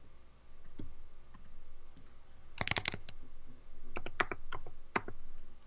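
A computer keyboard is typed on to fix a spelling mistake. Two short bursts of crisp, close key clicks sound over a quiet background hum with no talking.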